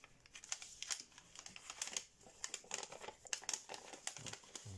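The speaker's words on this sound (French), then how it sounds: "on ouvre, on inverse le pli" Paper being folded into an origami deer with an inside reverse fold, a steady run of close crinkling and crackling rustles with small sharp creases throughout, no talk.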